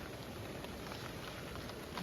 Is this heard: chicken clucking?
no